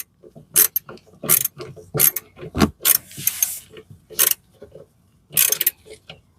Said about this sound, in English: you want to go ahead and take your 10mm socket